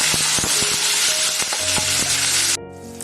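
Curry leaves and green chillies fry in a pan over a low flame for mango chitranna, giving a loud, dense crackling sizzle that quiets noticeably near the end.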